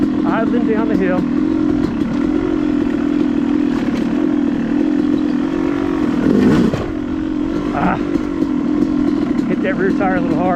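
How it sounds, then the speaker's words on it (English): Up close, a Yamaha YZ250 dirt bike idles down a hill on the wet, rocky Brown Mountain OHV trail, holding a steady low engine drone with a brief surge midway. A rider talks intermittently over it. "Idling down the hill."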